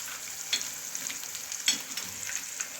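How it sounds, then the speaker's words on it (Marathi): Onion and peanuts frying in very hot oil, a steady close sizzle with a few sharper crackles and stirring scrapes, no talking. "तेल आता कडक तापलेलेच आहे। मी त्याच्यामध्ये कांदा पण घालून घेणार आहे, त्यानंतर शेंगदाणे पण घातलेले आहे"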